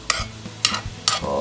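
Garlic going into a hot pan for seafood spaghetti, a few short sizzling bursts with stirring scrapes at roughly half-second intervals, close and fairly loud.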